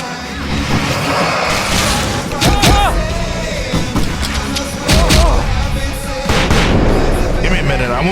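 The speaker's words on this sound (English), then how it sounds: "I can set off more of the fireworks from here and help you out!" Fireworks explode in the video game Alan Wake Remastered as a dense, loud barrage of booming blasts and crackling bangs, layered with chaotic game action noise.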